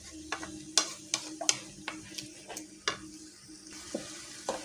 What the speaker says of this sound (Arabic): وهقلب، اسيبها كده تقلبتين مع بعض، طماطم مع الصلصه